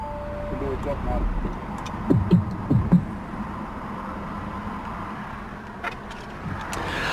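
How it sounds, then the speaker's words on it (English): A 2022 Audi RS3 Sportback Carbon Black Edition idles with a low rumble, then its engine shuts off, leaving a quiet interior with a few soft clicks and knocks. "Let's go ahead and shut her down."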